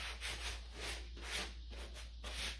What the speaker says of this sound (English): I'm sure that sanding pad sounds awful on video